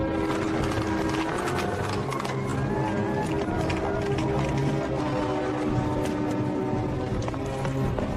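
A horse's hooves pound in a rapid, continuous galloping rhythm, loud and close, with a dense rumbling background and faint voices mixed in.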